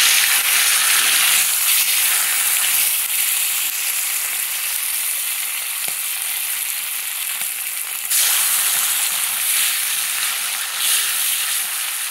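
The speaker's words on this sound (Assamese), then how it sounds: "মই মাছ দি দিলোঁ। মাছটা সুন্দৰকৈ মই এতিয়া ফ্ৰাই কৰি ল'ম" Fish fries in smoking-hot mustard oil in a wok. A loud, dense, continuous sizzle lasts throughout with no voices.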